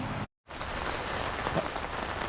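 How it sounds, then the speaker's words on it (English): Steady rain hisses evenly outdoors in a yard where a 1952 Dodge is being worked on, a soft continuous patter broken by a brief moment of silence. "Sorry about the rain."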